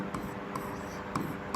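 Math equations handwritten during a Class 10 maths lesson, heard as faint scratchy pen strokes at a few separate moments beneath low, soft talking.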